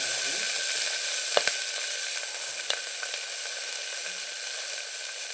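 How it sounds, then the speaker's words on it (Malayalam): Chicken sizzling in coconut oil for a spicy Kerala-style kanthari chicken dish: a steady, bright frying hiss throughout, with occasional faint clicks of stirring or utensils. "അതിലേക്ക് കുറച്ച് വെളിച്ചെണ്ണ കൂടി ഒഴിച്ചു കൊടുക്കാം"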